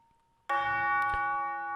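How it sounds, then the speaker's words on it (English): A sampled bell strikes once and rings out on a single sustained note, its bright tone holding steady and loud with a slow, even decay and no voices. "the bell very much is doing its own thing the entire time. You know, for the most part, it's playing one note and just sort of ringing out"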